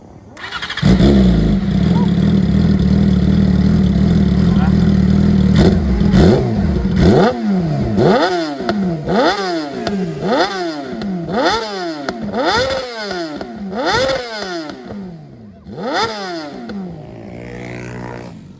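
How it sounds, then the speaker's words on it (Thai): A Yamaha R6 motorcycle idles with a loud, steady rumble at a racetrack, then its exhaust revs sharply again and again in a rapid, rhythmic series of high-pitched blips. "เดี๋ยวพี่จะพามาดูว่า เสียง R6 มันจะเป็นยังไงนะ"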